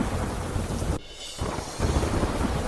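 Torrential monsoon rain drums loudly across flooded city streets in Ahmedabad, a continuous roar that drops out briefly before surging back.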